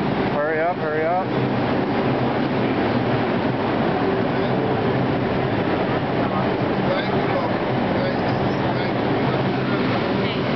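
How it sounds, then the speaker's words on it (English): A subway train carries riders in a steady, loud, rumbling roar that fills the whole span, with a voice briefly heard over the din near the start. "Getting onto the subway right now."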